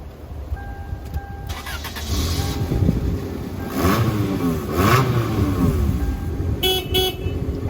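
Chimes sound, then a 1996 Toyota Corolla DX engine cranks and catches, settling into a steady idle with rising revs, close by.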